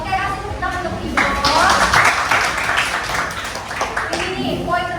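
Students in a classroom burst into a loud, dense round of clapping lasting a few seconds, close and lively, framed by a teacher speaking before and after.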